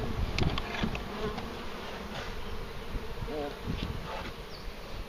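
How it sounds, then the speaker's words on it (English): Honeybees from a swarm hive being moved into a proper hive setup fill the air with a dense, continuous buzz, near and steady throughout. "The closer the better for the bees."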